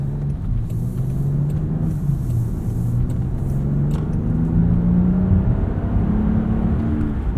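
A 2026 Land Rover Discovery with a 3-liter inline-six pulls away, its engine drone rising steadily in pitch as it accelerates, heard from inside the cabin over constant road rumble.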